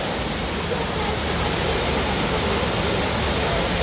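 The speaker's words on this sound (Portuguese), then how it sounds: "Olha cascata." Steady, dense rushing of a waterfall at Parque Tanguá in Curitiba, Brazil, constant and fairly loud throughout with no pauses and no voices.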